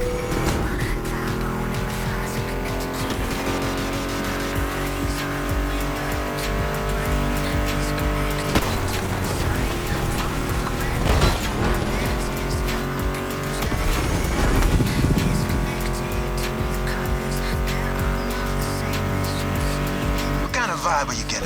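Muscle car engines, including a Mustang GT, roar and rev continuously as cars race in the video game The Crew Motorfest, with tire squeals along the way, all under steady rock music.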